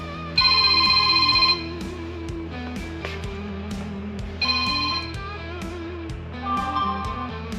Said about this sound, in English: Looks like I'm getting a phone call.